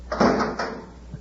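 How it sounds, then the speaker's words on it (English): A door on a miniature spaceship slides and thumps shut, a close, fairly loud mechanical clunk with a second knock and rattling that fades away, heard alone without voices. "Shut the door and shove off."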